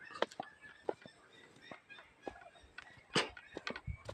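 Ducks at their small nipa hut shelter give scattered quacks and honks, close and moderately loud, with a louder burst of calls near the end.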